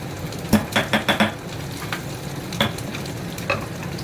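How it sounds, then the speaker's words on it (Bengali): Black cumin seeds with dried and green chillies tempering in hot oil, a continuous sizzle with a quick burst of spoon clinks against the pan early on, then a few scattered stirring knocks. "এই কালো জিরে, শুকনো লঙ্কা আর কাঁচা লঙ্কা ফোড়ন দিলাম"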